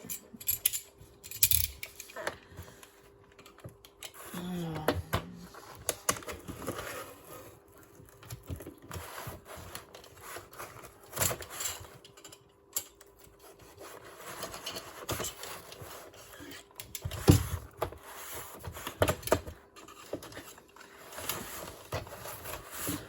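Plastic model kit parts box for a Mountain 241-P16 locomotive being unpacked, with scattered clicks, rustles and knocks of parts and cardboard handled close by, intermittent and uneven, with no talking.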